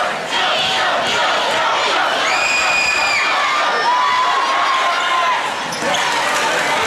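A student cheer block roars at a high school boys basketball game, TVHS against Triton. The loud, dense crowd noise holds steady throughout, with a few brief whistle-like tones rising above it midway.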